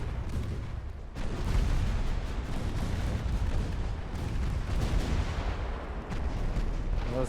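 Warship guns firing in the naval battle game Ultimate Admiral: Dreadnoughts, a continuous dense rumble of heavy cannon blasts and booms that stays loud throughout.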